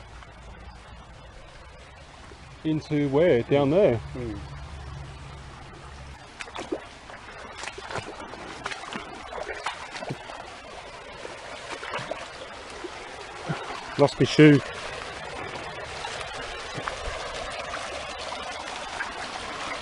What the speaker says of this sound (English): The water's pissing through there.